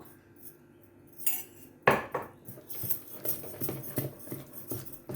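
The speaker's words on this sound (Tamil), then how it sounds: "இது நல்லா மிக்ஸ் பண்ணி விட்டுட்டு அவ்வளோதான்" A spoon stirs kara paniyaram batter mixed with salt and onion in a bowl, making repeated close clinks and scrapes against the bowl in an uneven rhythm.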